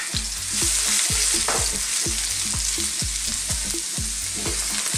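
Ginger and garlic fry in hot oil in a wok, giving a bright, steady sizzle over a rhythmic beat of background music.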